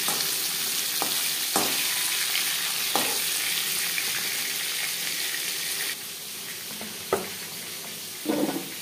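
Pieces of katla fish fry all at once in oil in a wok, a loud, continuous close sizzle with a few sharp clacks and spatters of the utensil turning them.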